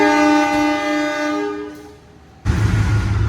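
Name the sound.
Penataran train departing Lawang station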